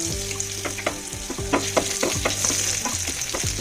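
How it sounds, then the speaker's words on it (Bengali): Potato pieces seasoned with salt and turmeric fry in mustard oil, a lively close sizzle broken by regular scraping strokes as they are stirred and turned in the pan, with no voices. "এই আলুগুলো নাড়াচাড়া করে খুব সুন্দর করে এপুট উপুট করে সুন্দর করে ভেজে নেব।"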